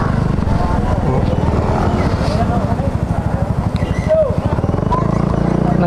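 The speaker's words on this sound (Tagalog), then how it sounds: "Nag-U-turn yung kalesa." A horse-drawn kalesa carriage makes a U-turn. The horse's hooves clip-clop in a steady rhythm over a continuous engine drone, and voices are heard in the background.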